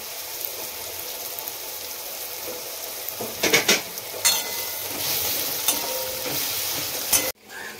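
Whole spices frying in mustard oil in a wok for Kolkata-style chicken biryani: a steady close sizzle with a few sharp clinks and stirring scrapes partway through, and no talking.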